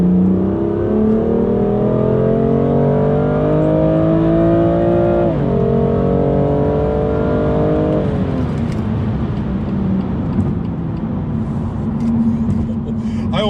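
A Mercedes-AMG A45 hatchback engine droning under load while driving, rising steadily in pitch through a gear, dropping at a shift and climbing again, loud and close inside the cabin with road roar beneath.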